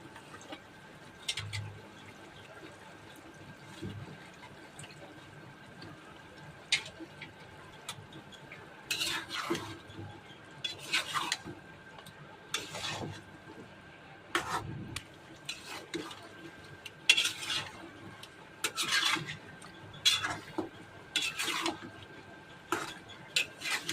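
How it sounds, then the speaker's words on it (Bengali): Meat being sautéed with cut papaya and potato for a Bengali lunch dish, stirred in a pan with a little water: repeated scraping and clinking of a spoon against the pot, in irregular bursts throughout, with no talking. "তারপর আমি এখন এখানে পেঁপে আর আলু কেটে রেখেছি, ওগুলি দিয়ে দিচ্ছি একসাথে, আর ভালো করে কষিয়ে নিব"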